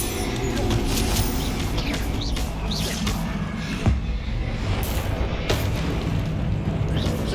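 A Bombarda blasting spell goes off in a Hogwarts Legacy tomb fight, a deep boom with a brief thump standing out from constant roaring battle effects and clatter.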